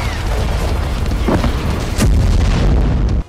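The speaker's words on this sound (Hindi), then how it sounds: "हमाद में शाम से ही आईडीएफ की भीषण बमबारी जारी है।" Heavy Israeli IDF bombardment in Gaza, with dense low rumbling booms running throughout and a sharper, louder blast landing near the end, no voices present.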